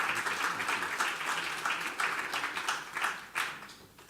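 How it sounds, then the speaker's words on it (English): Guests at a royal cocoa festival dinner applaud warmly, a full room of clapping that holds steady with a few sharper bursts, then fades toward the end, with no talk over it. "Please, a big round of applause"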